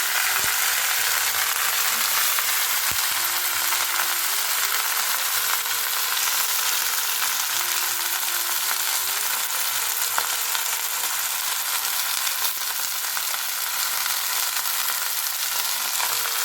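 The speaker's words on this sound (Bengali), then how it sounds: "রসুনটার সুন্দর গন্ধ বেরোচ্ছে শাকটা দিয়ে দিচ্ছে এবার শাকের সাথে ভাজাটা হয়ে যাবে" Moringa leaves fry with garlic in a pan, giving a loud, steady sizzle and crackle that runs unbroken from start to finish, with a faint background tone and no voices.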